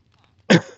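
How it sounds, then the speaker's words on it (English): A single sharp cough bursts out close by, brief and rough, with a short raspy tail. "I'm so sorry about the coughing"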